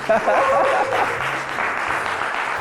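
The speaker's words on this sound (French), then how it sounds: "Donc, applaudissez pour vous les amis." A crowd applauding steadily, a dense wash of clapping that holds at an even level throughout, with a brief tonal sound near the start.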